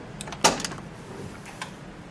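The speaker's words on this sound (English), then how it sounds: "Can I open the door?" The door of a 1959 Mercedes-Benz 220 S Coupe in light blue opens with one sharp latch click, followed by a few faint metallic knocks, close and with no talk.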